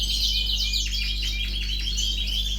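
Small cage birds in a breeding birdroom chirp and twitter continuously, a busy layer of high tweets and rapid trills over a constant low mechanical hum, with no voices present.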